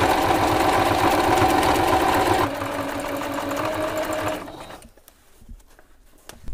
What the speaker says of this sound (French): Couture point droit,